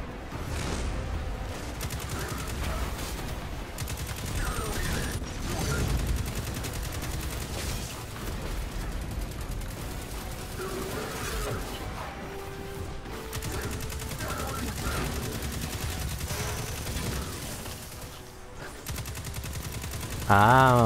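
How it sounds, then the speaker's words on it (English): Auto rifle fire in Destiny 2 during a Titan beta match, a dense continuous rattle of rapid shots carrying on for the whole stretch, with steady action noise beneath and a voice speaking over it. "This auto rifle is actually really nice."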